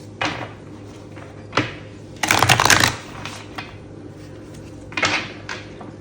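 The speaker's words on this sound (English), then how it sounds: "Do a good hard shuffle." Tarot cards shuffled hard by hand in a quiet room, a few short riffling bursts with one longer, louder shuffle in the middle, close and alone.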